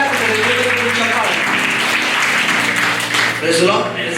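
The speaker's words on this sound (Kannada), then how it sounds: "ಎಲ್ಲರಿಗೂ ಚಪ್ಪಾಳೆ." A church congregation claps through a short burst of applause, steady and fairly loud, with voices and music-like tones running underneath.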